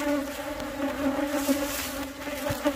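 Honey bees hum at a hive as the flowering season begins, a dense steady buzzing up close with layered droning tones that rise and fall slightly, with no one talking.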